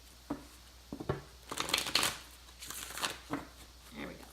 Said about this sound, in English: I think we need like 2 more shuffles here.